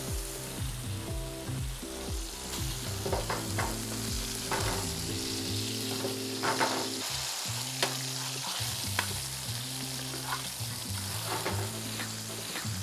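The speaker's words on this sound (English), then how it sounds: "Can put a bit of seasoning on the onions. Let them saute for like 3 minutes." Seasoned onions sauteing in a pan for a beef burger, a steady close sizzle with stirring scrapes and occasional clinks running throughout, no voices.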